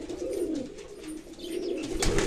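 Pigeons in a loft with a standing male and female pair give soft continuous low cooing, close by with faint background rustle.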